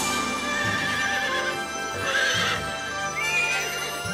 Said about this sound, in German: Er ist auf einmal wieder ein Pony.